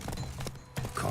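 Roach, a horse in The Witcher 3, clops its hooves in a few quick near steps over a low steady game background, with a brief break midway before the hoofbeats resume.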